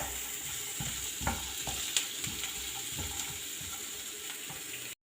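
Chopped onions fry in hot oil in a pan with a steady, close sizzle, broken by scattered scrapes and clicks of a spoon stirring.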